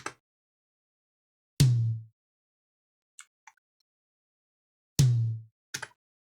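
A Get Good Drums P4 tom run through Fab Filter Saturn saturation in a Cubase mix strikes twice, each a deep, heavy, close boom. Small clicks and ticks fall between and after the hits.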